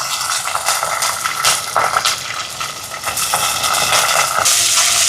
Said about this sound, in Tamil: இப்போ இந்த வெங்காயமெல்லாம் நல்லா வதங்கட்டுக்கும்.